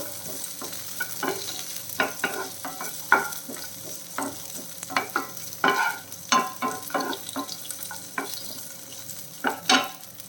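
Raisins fry in ghee over a medium flame, a soft sizzle broken by repeated scraping clacks of a spoon stirring the pan at an uneven rhythm, close and fairly quiet.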